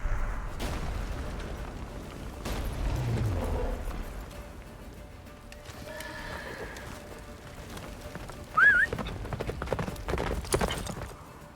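Roach, Geralt's horse in The Witcher 3, gallops with a steady, close clip-clop of hooves. A whinny, low booms and a brief high cry break through midway.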